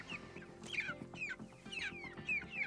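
Chickens cluck and squawk on pasture grass, with repeated bright calls from several birds close by over a steady low background, taking their first steps outdoors.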